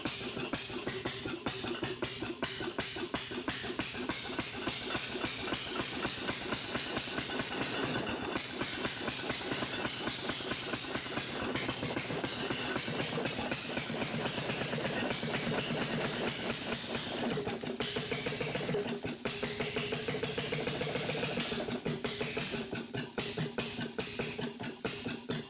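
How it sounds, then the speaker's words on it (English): A steady, rapid mechanical chugging with a continuous hiss, rhythmic and loud throughout, from a small steam putt-putt boat engine whose cylinder rocks back and forth as steam expands and contracts. "As steam expands and contracts, the cylinder rocks back and forth, producing the characteristic putt-putt sound while propelling the boat."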